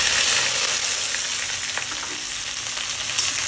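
Whole garam masala, bay leaves and dried red chillies crackle in hot oil for a tempering for chira polao, a flattened-rice pulao. The sizzle is loud, dense and unbroken, close by with no voices.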